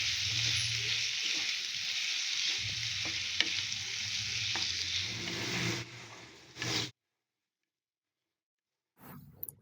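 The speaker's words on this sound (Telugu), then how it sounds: "టమాటాలను కలుపుతూ 2 నిమిషాలు ఫ్రై చేయండి" Salted tomatoes fry and get stirred in a pan for cauliflower tomato curry, giving a loud, steady sizzle with scraping that stops abruptly partway and briefly returns at the end.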